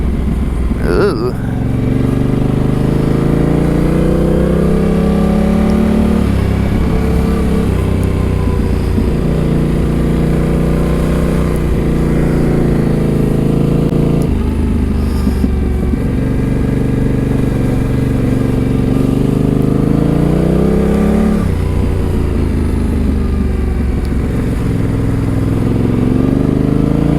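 Yamaha Tenere 700 motorcycle engine droning steadily while riding, loud and close, with rising and falling pitch as the throttle opens and gears shift, plus rushing wind, a voice talking over it.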